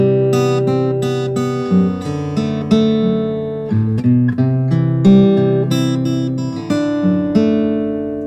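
A fingerstyle guitar plays a song, with plucked bass notes walking up to C under ringing chords, clearly picked notes and a steady gentle pulse, close and alone without voices.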